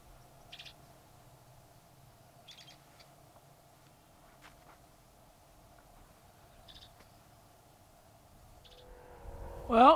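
Birds in a marsh give sparse, brief calls at a distance over quiet outdoor ambience, with a louder rustle or bump close by at the very end.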